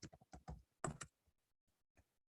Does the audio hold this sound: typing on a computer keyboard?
yes